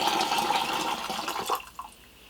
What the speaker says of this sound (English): if you just like pour your tea or pour the water, from pitcher to pitcher